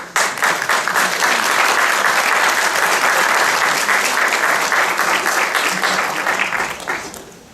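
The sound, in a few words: graduation audience applause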